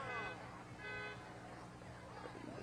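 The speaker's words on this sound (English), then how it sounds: "It might just be that guy honking his horn at everybody." Car horns toot in short bursts at a St. Patrick's Day parade in Dublin, Georgia, heard fairly faint and a little distant. Crowd chatter and a nearby voice talk over them.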